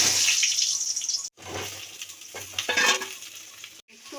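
Potatoes are tipped into hot oil in a pan for egg and potato biryani and sizzle loudly up close, with stirring scrapes and two brief breaks in the frying hiss.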